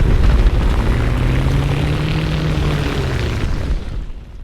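An F6F-5N Hellcat fighter in a video game roars loudly and steadily, its propeller engine droning with a low rumble close by, fading slightly at the end.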